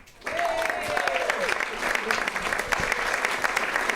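Concert audience applause welcomes a singer to the stage, a dense, steady wash of clapping that swells in quickly and holds loud throughout, with a voice talking briefly under it.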